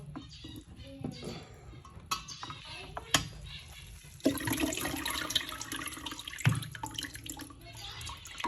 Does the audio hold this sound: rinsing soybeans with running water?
yes